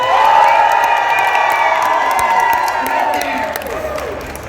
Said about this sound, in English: Can somebody up here give me a really big Ice Cream Man cheer?